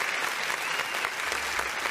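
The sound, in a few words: audience applauding a performer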